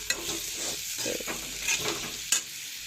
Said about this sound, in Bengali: গ্যাসের কমা দিই আস্তে আস্তে মশলা এখানে কষাবেন